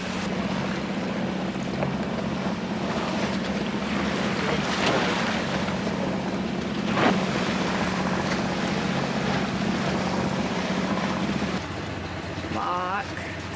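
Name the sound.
sailboat under sail and engine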